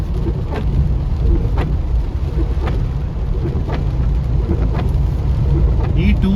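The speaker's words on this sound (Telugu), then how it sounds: "చూడండి ఎన్ని నీళ్ళు వస్తున్నాయి, ఎంత వర్షం," Heavy rain pounds a moving car from the inside, a steady dense wash of drumming over the low road rumble, with occasional louder splashes throughout.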